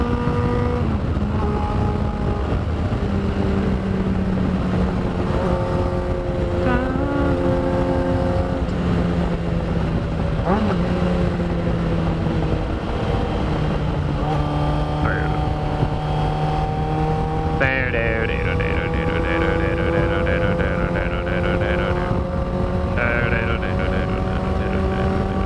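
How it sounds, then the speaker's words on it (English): A motorcycle ridden along the road, recorded on an older GoPro, its engine droning steadily with rising and falling pitch as gears shift, under constant rushing wind noise throughout. "I'm riding a motorcycle"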